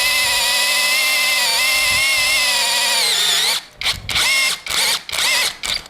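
Masaru electric drill, a budget corded model, whining at a steady high pitch while running, then biting into a workpiece in short repeated bursts that chop the sound on and off.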